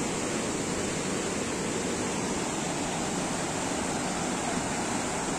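Swift river water rushing through Sanghyang Tikoro on the Citarum, a dense, unbroken roar of flowing water filling the scene at a steady level.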